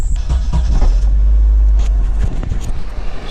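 Nissan Silvia S14 240SX with a KA engine catches and settles into a heavy, close low rumble, idling unevenly with a few throaty pulses after the start.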